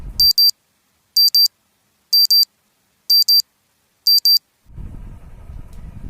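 An alarm clock beeps in five evenly spaced double bursts, sharp and high, then gives way to low rumbling noise at the end.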